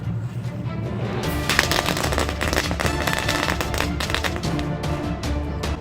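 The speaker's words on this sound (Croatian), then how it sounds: "Danas idemo na drugu petardu" Rapid, dense crackle of a string of firecrackers going off close by, a continuous burst of sharp pops lasting several seconds with no pause.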